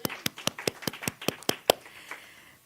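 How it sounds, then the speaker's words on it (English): Applause at a community gathering, heard as about nine sharp, evenly spaced claps in a steady rhythm, close and clear, then tapering off. "Let's give her a round of applause."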